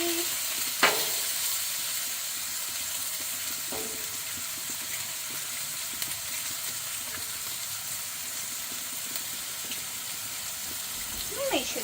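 Bacon grease sizzles and hisses steadily throughout, a dense continuous crackle with a few sharper pops, with no one talking over it.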